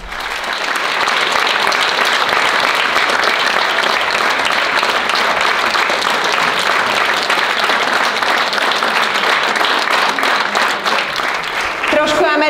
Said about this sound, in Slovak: Veľký potlesk aj pre Latino Teens z Kopánky.